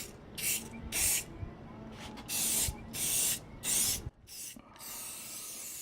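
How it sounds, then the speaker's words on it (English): Aerosol spray paint hissing onto craft rocks outdoors on a sunny day, in several bursts of one to two seconds each with short pauses between them, close and fairly loud. "And then we'll flip them over and spray paint the other side"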